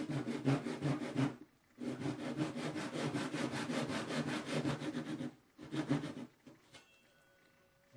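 A hand saw cuts through a small piece of wood for a guitar string winder, with rhythmic rasping back-and-forth strokes in three bursts, close and loud, then stopping.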